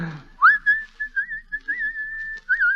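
A man whistles a sustained, wavering tune while leaning on a front gate in an old radio drama, the melody clear and close with small trills and no talk over it.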